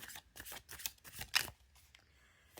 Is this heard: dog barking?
no